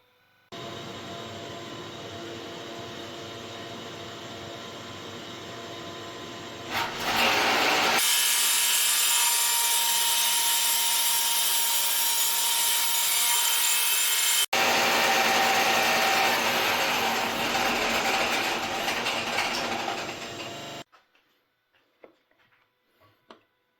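A powered saw cuts a taper angle into a wooden table leg, its loud steady whine running for about twenty seconds with a brief pause and change of pitch midway before it winds down and stops.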